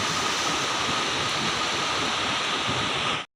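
A river runs high and strong, a steady broad rush of flowing water that holds constant and close before cutting off abruptly at the end, with no talk over it.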